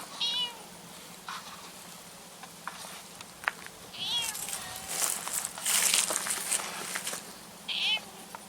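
A cat meows several times, fairly close, with someone speaking softly in between and light rustling in the background.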